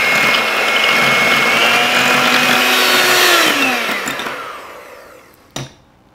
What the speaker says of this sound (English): I'm going to break out the hand mixer